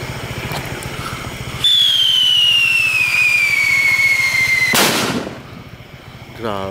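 A 100 gram whistle bomb firecracker with titanium effect goes off outdoors in an open area: a loud, piercing whistle slides slowly downward for about three seconds, then ends in a sharp, booming blast that fades out.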